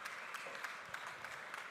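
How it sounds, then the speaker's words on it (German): Brief, faint applause from a crowd at the Swiss Coffee Festival, a soft continuous patter of many hands that sounds distant and low in level. "Grossen Applaus, Lukas."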